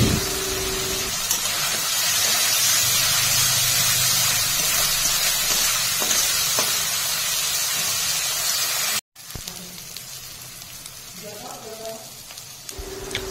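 Turmeric and Kashmiri chilli powder sizzle steadily in a hot pan while a spatula stirs them for a Bengali fish curry. The frying hiss is close and continuous, with a brief cut near the end.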